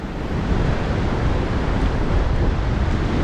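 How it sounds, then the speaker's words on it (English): On a beach in El Salvador, ocean surf rolls and breaks steadily, mixed with gusting wind noise in a loud, continuous wash. "Look at these beautiful waves."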